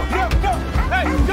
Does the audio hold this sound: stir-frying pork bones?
no